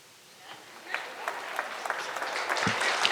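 Applause from a comedy show audience, a steady wash of clapping that swells and holds for a few seconds with some sharper individual claps standing out near the front.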